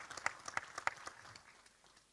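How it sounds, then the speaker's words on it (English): An audience at the World Without Hunger Conference claps for His Royal Highness, a small, faint scattering of distinct hand claps that peters out within a couple of seconds. "another warm round of applause to His Royal Highness for addressing our gathering today"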